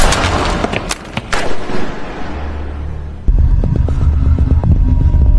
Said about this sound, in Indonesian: John lebih dulu melepaskan tembakan